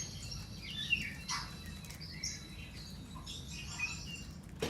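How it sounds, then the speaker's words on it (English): Recorded kakariki bird call, faint chirps scattered across a steady low background hiss, with no voices heard. "And we say, yeah, that's a bird call."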